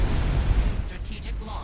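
Nuke explosion in the video game Supreme Commander FAF during a survival match, a heavy low rumbling boom that decays quickly, with a voice talking over it.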